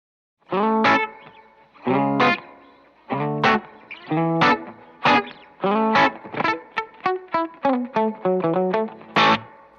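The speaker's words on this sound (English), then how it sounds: "it goes to this really cool spring reverb." Choppy electric guitar strums and quick chord stabs through a springy, twangy spring reverb effect, a rhythmic run of short hits ending on one ringing chord.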